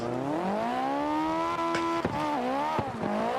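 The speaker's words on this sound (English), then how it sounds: "Why is my car spinning out all of a sudden?" A racing car engine whines at high revs, pitch climbing and dipping, with brief squeals and knocks as the car spins out.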